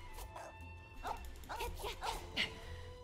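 A dog in the video game Genshin Impact gives several short yips and barks over a steady game backdrop, fairly soft and close, with a brief sharper yelp near the end.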